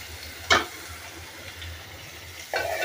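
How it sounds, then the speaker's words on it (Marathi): Onion added to hot oil with asafoetida and turmeric in a pan over a low gas flame, bursting into a short loud sizzle, followed by a low, steady frying hiss and then a second rise in sizzling toward the end. "त्याच्यात कांदा टाकून घ्यायचा आहे।"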